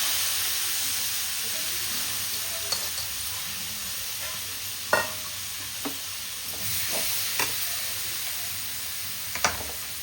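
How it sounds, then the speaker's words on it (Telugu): Pieces of bottle gourd frying in ghee for kheer, a steady soft hiss of sizzling with a few sharp clinks and scrapes of stirring scattered through. "కొంచెం నెయ్యి వేసుకొని వేయించుకుంటాను"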